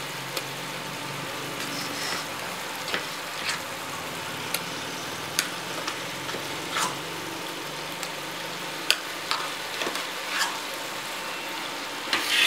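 Coconut and onion paste sautéing in a chole masala gravy on high flame makes a low, steady sizzle, broken by occasional sharp scrapes and clinks of stirring, fairly quiet with no voices.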